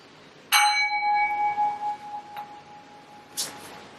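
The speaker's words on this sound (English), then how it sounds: "We're going to start off with a quick bell, and we'll end with a bell." A meditation bell struck once to open a mindfulness session, ringing with a clear sustained tone that slowly decays over several seconds, followed by a faint lighter strike and a brief brighter rustle near the end.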